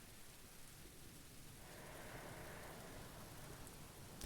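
Steady rain ambience from the video game Book of Hours, a soft even hiss of falling rain that swells slightly louder midway and holds, with no voices over it.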